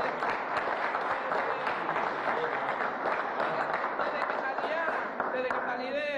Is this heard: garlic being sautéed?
no